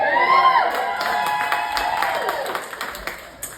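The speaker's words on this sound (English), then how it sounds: "Every time you guys cheer, it burns about 20 seconds off my set" Comedy club audience at a stand-up set cheering and clapping, a loud crowd roar with whoops and shouts that fades into scattered applause near the end.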